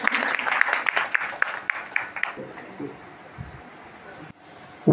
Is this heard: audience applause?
yes